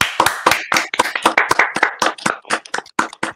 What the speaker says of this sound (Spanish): Le damos un fuerte aplauso a Juan